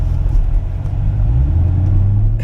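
Loud, close exhaust drone from a car running a Stainless Works exhaust with catalytic converters refitted, a deep steady rumble that swells slightly as the engine pulls, with no voices over it.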